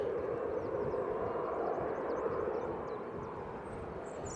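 At Manchester Airport on a windy day, a TUI airliner's engines give a continuous broad roar from a distance. High faint chirps sit above the roar.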